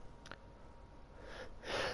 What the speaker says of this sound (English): Wow, that was a good sneeze.